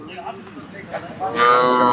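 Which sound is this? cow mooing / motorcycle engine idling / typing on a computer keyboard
cow mooing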